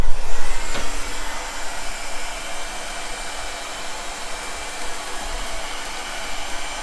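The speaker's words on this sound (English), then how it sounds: "let's just get the heat gun" A heat gun blows steadily on fresh base coat paint on a Honda Prelude, a continuous close airy roar that is loudest at the start and then holds even.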